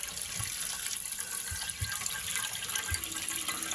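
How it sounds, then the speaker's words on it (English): Water running into a toilet tank in an expandable house on a homestead, a faint steady hiss with soft gurgling trickles underneath, heard alone. "Water is coming out."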